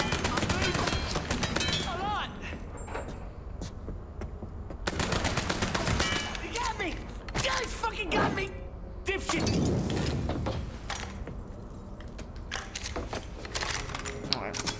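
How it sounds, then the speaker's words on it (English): Gunfire in the video game Mafia 3: dense bursts of automatic shots and sharp cracks fire almost without pause, loud and close, mixed with shattering impacts and game sounds. "Who the fuck's shooting me?"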